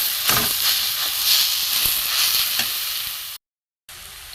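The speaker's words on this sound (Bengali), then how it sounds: "এই যে আমি আলু সিদ্ধ করে চটকে রেখেছি এটা আমি এর সাথে দিয়ে দেবো দিয়ে একটু ভালো করে ভাজবো" Radish fries in a pan together with mashed boiled potato, giving a steady close sizzle and hiss that cuts out briefly near the end.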